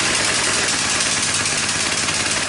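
Coleman minibike engine running rough with the choke off, a loud, continuous close-up engine drone that stays harsh and uneven across the short stretch without any voices.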